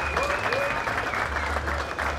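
A crowd at the A3C 2012 hip-hop festival applauds a producer with dense, steady clapping and scattered cheers that fill the room without a break.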